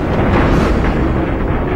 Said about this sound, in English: a set of carefully planned explosions that cause the building to fall